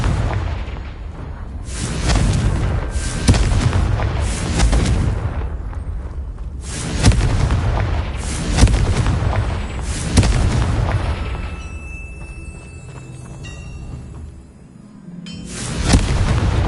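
Repeated Confringo fire spell explosions in Hogwarts Legacy, a series of heavy booming blasts in clustered bursts with short lulls between, loud and close, each trailing into a rumbling decay.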